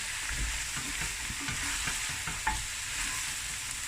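Spices for a creamy lamb knuckle curry fry in a pan with a loud, close sizzle and repeated stirring scrapes throughout.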